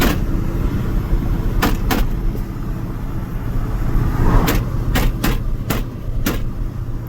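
A 1988 Chevy K2500 truck engine lugs uphill on a mountain road, a steady low drone and rumble held throughout, with a few sharp clicks or taps standing out above it.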